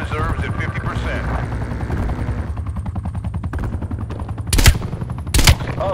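A helicopter in the video game Call of Duty: Black Ops Cold War gives a loud, steady rotor thump under game dialogue, joined by bursts of machine-gun fire and two sharp loud blasts near the end.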